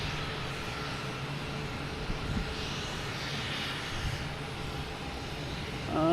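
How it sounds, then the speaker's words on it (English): A JetBlue airliner taking off at Boston Logan Airport, a broad steady engine roar heard from a distance, constant throughout and rising slightly at the very end. "Next takeoff is JetBlue heading to DC."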